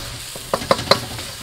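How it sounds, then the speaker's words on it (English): Garlic chilli chicken sizzling in a Kadai firebowl on a Kamado Joe Big Joe 3 grill; a steady sizzle with three quick scraping stirs of the utensil close up. "you let that sizzle away there just for 30 seconds"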